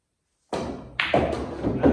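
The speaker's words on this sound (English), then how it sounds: "I'll try that 14 in the corner." A pool shot on a billiard table: a sharp cue strike, then several quick knocking clacks as the balls collide, close and fairly loud in a quiet room.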